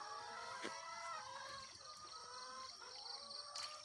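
Chickens clucking softly at a rural Isan homestead in Thailand while being fed, faint scattered clucks and a brief crow-like call over a quiet outdoor background.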